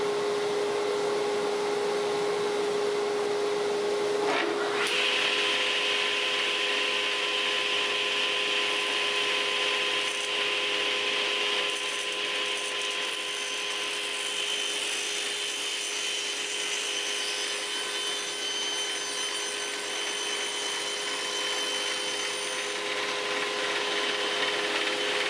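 A table saw cuts a board for a barn door, its blade whining steadily and loudly after a brief clunk near the start, then carrying on through the wood with no speech.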